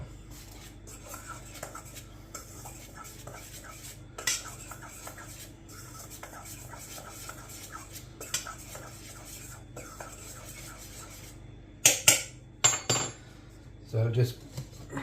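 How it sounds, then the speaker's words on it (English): A spoon scrapes and clinks against a bowl while mixing banana loaf batter with baking powder, a quiet repeated clatter with a few louder knocks near the end. "So mix this up first."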